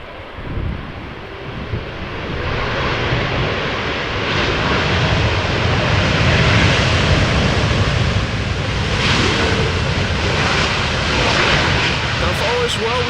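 A fixed-wing airliner roars in on a crosswind landing at Amsterdam Schiphol Airport, a loud, continuous broadband engine rush with gusty wind noise that holds steady for the whole stretch, with a voice speaking over it.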